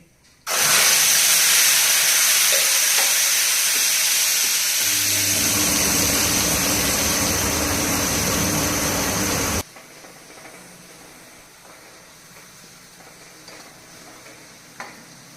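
Spice paste with asafoetida hits a hot pan for bhandara-style potato curry, setting off a loud, steady sizzle and hiss that fries on for several seconds, then cuts off abruptly to quiet kitchen background.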